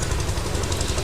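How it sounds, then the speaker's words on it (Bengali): A passenger launch arriving at a ferry ghat at the Damodar–Hooghly river confluence near Garhchumuk gives off a steady, low, throbbing engine rumble that holds at an even level throughout, with no voices. "বেলারির দিক থেকে এসে লঞ্চ 58 গেট ফেরিঘাটে এসে এখন নগর করবে"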